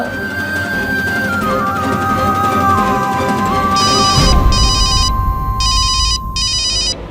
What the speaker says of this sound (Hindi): हम कब से फोन लगा रहे, तुम फोन काहे नहीं उठा रहे हो?